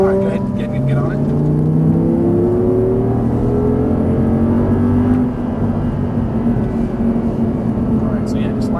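An Audi R8 V10 accelerates hard on the Auto Club Speedway track, its engine note climbing steadily and loudly from inside the car while an instructor talks over it.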